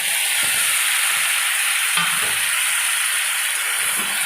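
Mixed vegetables fry in a pan for vegetarian khichuri, a loud, constant sizzle with a few soft stirring knocks, and no voices.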